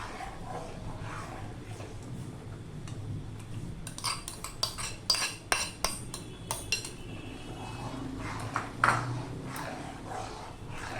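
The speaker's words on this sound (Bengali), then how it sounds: "অল্প অল্প করে দেবো আর নাড়তে থাকবো" A spoon scrapes and clinks against a pan while a mango dessert is stirred over a low gas flame. The stirring is soft at first, then a run of sharp metallic clinks comes in the middle, with faint background noise throughout.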